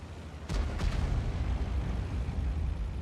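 A deep, booming high-explosive tank shell blast in World of Tanks erupts suddenly, followed by a second thump and a long rumbling roar that keeps going.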